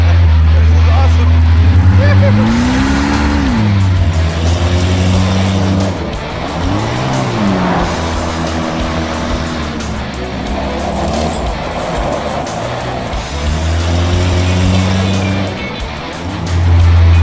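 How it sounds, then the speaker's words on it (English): A gutted, small, light mid-engine car on big tires is driven hard, its engine revving up and down in repeated swoops with tire squeal and road roar, loud and close, with voices at times. "mid-engine, rear-engine, small light car gutted on big tires is a formula that never fails"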